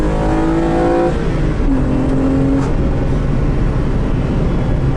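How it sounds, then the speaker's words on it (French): Naturally aspirated V6 engine of a Renault Clio V6, heard up close as a loud, continuous rumble that climbs in pitch through a rev, briefly drops back and rises again across the whole stretch. "Le moteur il est nerveux."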